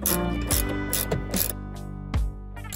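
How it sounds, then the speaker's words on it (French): A ratchet and socket tighten a self-locking nut on a Land Rover Freelander 2 anti-roll bar link: close, loud bursts of rapid clicking, several short strokes in a row. "Maintenir l'axe avec l'embout hexagonal si nécessaire et serrer l'écrou auto-freiné avec la douille"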